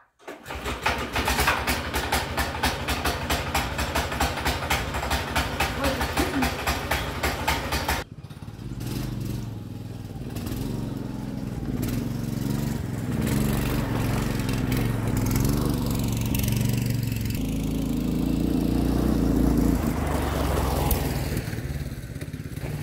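A homemade go-kart powered by a lawn mower engine runs steadily and loudly close by, its dense rhythmic putter shifting after about eight seconds into a rougher, revving drone with varying pitch as it moves.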